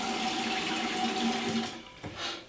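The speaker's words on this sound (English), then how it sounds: "And then I run some water on them, get them wet." Tap water runs steadily onto drywall repair tape to soak it, a close, even splashing gush that tapers and stops near the end, with no talking.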